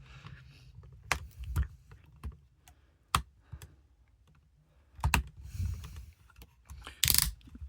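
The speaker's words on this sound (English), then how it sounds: "Arms go all the way out on these nice ratchets." Ratcheting arm joints on a Commander class Transformers Jetfire toy give several short, close plastic clicks in scattered bursts, with quiet gaps between them and nobody talking.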